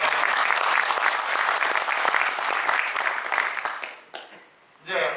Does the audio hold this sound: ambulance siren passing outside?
no